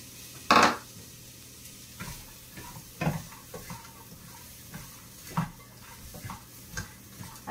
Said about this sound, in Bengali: এই পেঁয়াজ কুচিটা দিয়ে দেবো। তেল কিন্তু এখানে একদমই ইউজ করিনি।